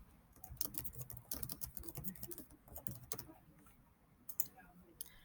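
Quiet, rapid typing on a computer keyboard as a topic is entered into a search box, steady light clicks with brief pauses, close by.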